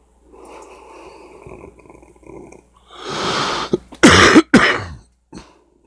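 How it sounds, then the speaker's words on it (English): A man with a cold coughs and clears his throat in a few harsh, close bursts, with quieter breathing and throat sounds before them. "If you guys can bear with me coughing through this thing,"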